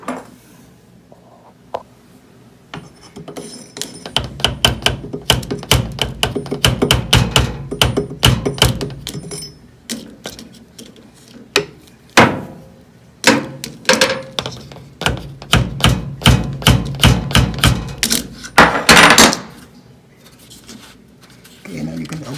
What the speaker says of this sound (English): You can use the hammer to tap it.